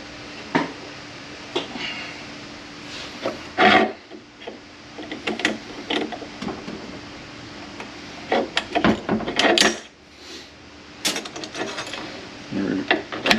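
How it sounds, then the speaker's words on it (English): Metal clicks, scrapes and sharp clanks at close range while a snap ring is pried off a 2004R automatic transmission during teardown, in irregular bursts with pauses and no speech. "pull your snap ring off"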